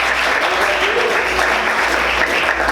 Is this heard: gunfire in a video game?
no